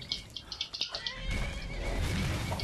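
A horse in Skyrim gives a neigh, a run of sharp rising whinny pulses that open the moment, followed by a steadier rumble of in-game noise.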